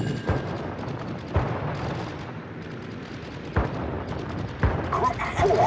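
Naval gunfire in World of Warships during a Japanese Hosho carrier match: heavy, booming shots land at irregular intervals over a constant rumbling battle backdrop, with clipped radio-style unit callouts faintly mixed in.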